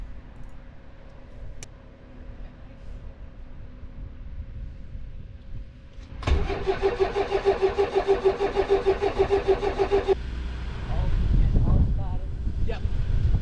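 A light aircraft's engine cranks and catches, a rapid pulsing roar starting abruptly after a quiet stretch, then dropping to a rougher idle with wind noise and brief talk.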